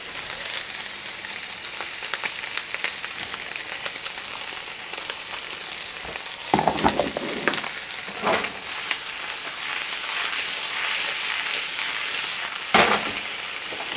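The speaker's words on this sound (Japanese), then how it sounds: "ベーコンもしっかり炒まったらここでようやく混ぜて" Mushrooms and bacon sautéing in a pan, a dense crackling sizzle throughout with a few louder stirring bursts, close and fairly loud.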